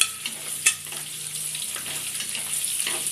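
Onions fry in a pan for thoothuvalai thuvayal, a close, steady sizzle broken by a few sharp clinks and stirring scrapes, with no talking.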